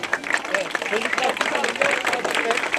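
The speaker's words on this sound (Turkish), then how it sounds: "Başarılı personelimizi alkışlıyoruz." A crowd applauds personnel outdoors at a provincial traffic week event, with dense, steady clapping that runs for a few seconds and voices mixed into the noise.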